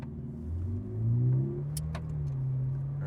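A 2019 Ferrari 488 Pista engine idling on a cold start, a deep steady rumble that swells briefly then settles into an even high idle, heard close with no talk.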